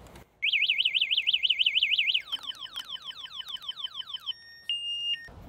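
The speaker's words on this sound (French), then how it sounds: "Je vais activer l'alarme pour vous montrer." An anti-theft alarm on a Lycke Apache electric motorcycle blares alone and loud, cycling through a rapid warbling siren, then a series of falling swoops, then steady two-tone beeps before cutting off.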